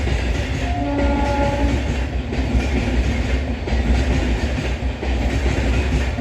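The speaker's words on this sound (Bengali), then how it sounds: "আবার ট্রেন আসছে গাইজ।" A train rumbles past close by with steady clattering wheels, and a horn sounds briefly near the start.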